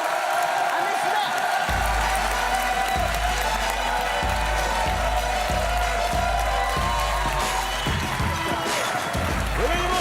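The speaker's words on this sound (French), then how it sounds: "On l'applaudit très fort." Loud applause and crowd noise fill the room continuously, with a steady thumping beat underneath and occasional cheers rising from the audience.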